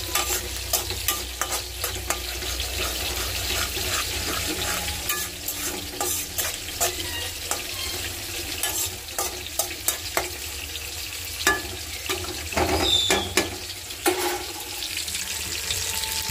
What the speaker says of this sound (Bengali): আর এই যে ইলিশ মাছ ভাজা বসিয়ে দিচ্ছি